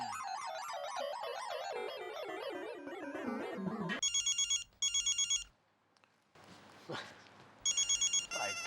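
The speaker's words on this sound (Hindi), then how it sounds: "पूछता हूँ फोन करके कहाँ है।" A telephone rings in repeated electronic bursts, two short trills and then another after a gap, following a wavering musical tone, with faint room noise between rings.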